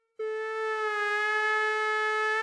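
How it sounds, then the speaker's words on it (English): A steady, pure synthesizer sine wave tone starts abruptly and holds at an even pitch and loudness for about two seconds, alone and clear, cutting off at the end. "This is called sine wave"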